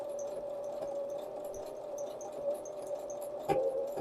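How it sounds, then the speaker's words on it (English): Sewing machine stitching rope for a farmhouse-style placemat, its wheel turned slowly by hand, giving a soft, steady mechanical hum with light ticks and taps and a couple of firmer knocks, faint and close. "The turning of your wheel of your sewing machine."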